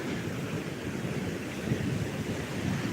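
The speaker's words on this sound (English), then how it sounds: "Here's the ocean you'll be looking at" Ocean waves washing onto a Gulf beach, a continuous broad rush of surf mixed with wind buffeting the microphone, steady and fairly loud, with no voices.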